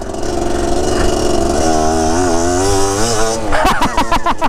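A two-stroke dirt bike engine revs hard and steadily for several seconds, its pitch climbing and wavering, then breaks into sharp, choppy blips of throttle near the end, loud and close.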